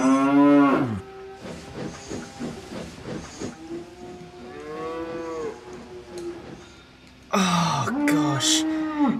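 Animated cows on a railway line moo loudly several times close by, mixed with hissing steam and a steam whistle, while a voice talks between the calls.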